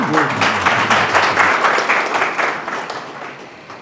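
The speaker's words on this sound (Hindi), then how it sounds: "हम तालियों से स्वागत करेंगे." Audience applause welcoming a speaker at the feedback and closing session of a regenerative farming camp, loud clapping from a crowd that starts right after a brief voice and gradually fades.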